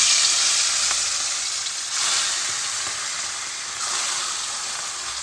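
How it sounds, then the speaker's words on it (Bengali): Steady loud sizzling of bata fish frying in hot mustard oil, a continuous crackling hiss with slight swells. "গরম তেলে মাছগুলো ভেজে নিচ্ছি।"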